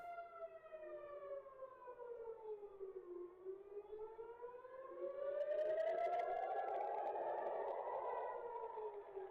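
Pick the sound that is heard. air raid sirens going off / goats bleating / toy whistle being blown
air raid sirens going off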